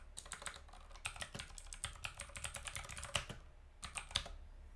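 Fast typing on a computer keyboard, with irregular bursts of close, crisp key clicks and brief pauses between runs, fairly quiet and with no voice.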